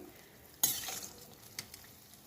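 Maida biscuit dough frying in hot oil, a sudden sizzling burst that flares up, then settles into a softer crackle with a few sharper pops, close and fairly quiet.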